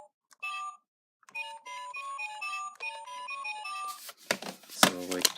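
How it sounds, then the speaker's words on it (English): A DX Zyuoh Changer toy plays a few seconds of bright electronic beeping melody from its button sounds, followed by a noisy handling burst and brief talk near the end. "the buttons still have the same 5 sounds"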